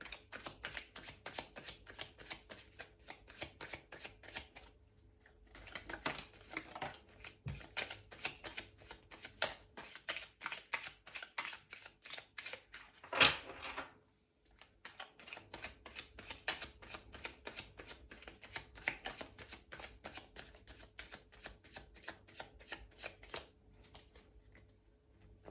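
Tarot cards shuffled by hand in steady rapid riffling bursts, close and fairly quiet, with a few short pauses and one sharper snap midway.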